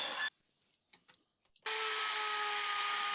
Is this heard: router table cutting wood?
yes